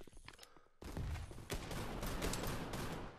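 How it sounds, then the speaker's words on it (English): Rapid gunfire from a VR shooter game on Oculus Quest 2 breaks in after a quiet opening and continues as a loud, dense burst of overlapping shots to the end. "Why are you shooting at me?"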